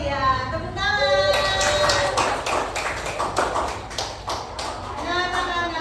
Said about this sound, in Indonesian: Tepuk tangan buat Najwa.